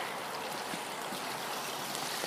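Spring water flowing at a spot where drinking water is collected, a soft continuous gurgling trickle like a small stream, steady and fairly faint with no voices.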